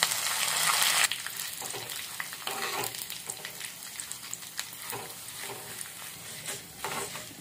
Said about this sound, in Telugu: తాలింపు వేగింది